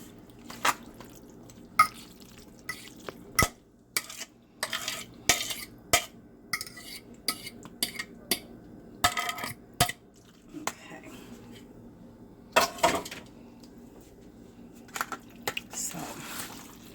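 Lobster mac and cheese being stirred in a dish, with soft wet squelches and scattered sharp utensil clinks against the container, irregular and close, fairly quiet, no talking.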